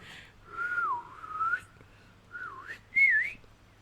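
Someone whistles a short tune in three rising and falling phrases, fairly quiet and clear, with brief pauses between them and no talking.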